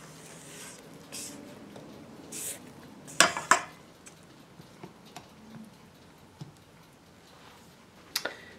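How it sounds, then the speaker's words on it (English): Crescent roll dough is mixed in a bowl, with scattered clinks and knocks of the utensil against the bowl, two louder clatters near the middle, and soft scraping and rustling between them. "And continue to mix."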